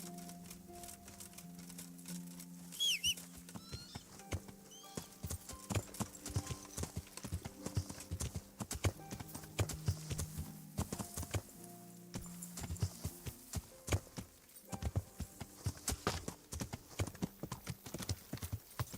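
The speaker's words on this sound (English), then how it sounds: "Caballo escalador." Hooves of a climbing horse clip-clop steadily in a video game, a quick irregular patter of hard knocks over a low background hum, with a brief whinny-like squeal early on.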